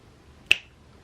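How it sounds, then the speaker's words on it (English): A single crisp finger snap, close and sharp, standing alone in an otherwise quiet room with a faint background hiss. "how many of you snap your fingers out there?"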